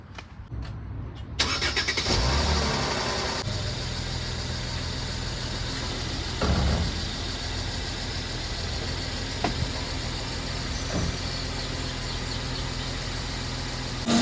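A 2012 Mercedes-Benz E350 engine cranks and catches after a brief quiet moment, then settles into a steady, fairly loud idle that keeps running with a few small bumps in its tone.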